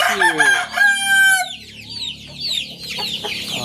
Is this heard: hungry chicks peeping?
yes